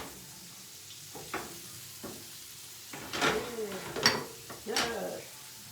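A small batch of shrimp frying in a pan, with a soft sizzle under intermittent utensil clicks and scrapes, close and fairly quiet, with a voice talking over it.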